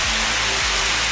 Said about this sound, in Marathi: गाइस आज आमच्याकडे पडत आहे पाऊस।